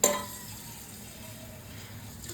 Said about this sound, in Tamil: இதில் வந்து நம்ம தண்ணி விட்டு நல்லா வந்து சோக் பண்ணிக்க போகிறோம்.